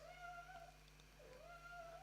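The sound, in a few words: cat meowing, whinging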